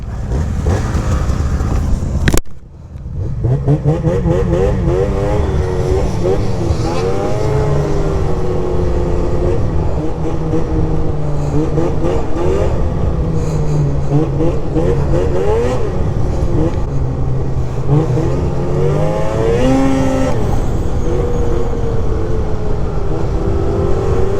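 An Arctic Cat 600 Catalyst snowmobile engine, freshly clutch-tuned, revs loudly and repeatedly up and down after a sharp click, its pitch rising and falling in a close, sustained roar.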